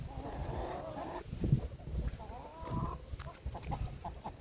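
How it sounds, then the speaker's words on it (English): An Isa Brown and blue copper Maran crossbreed hen clucks softly nearby in a farmyard, low intermittent clucks mixed with other outdoor noise and a little background talk. "I've got this hen walking through there"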